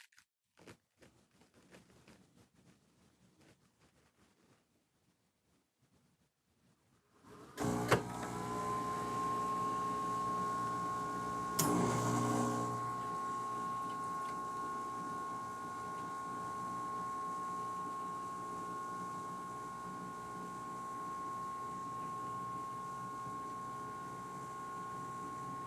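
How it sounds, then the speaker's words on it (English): A 2018 Solista machine rebooting: near-silence breaks into a sudden loud mechanical start, then a steady motor whir with a high tonal whine, a brief grinding burst, and a continuous hum to the end. "The machine will now go through a small reboot."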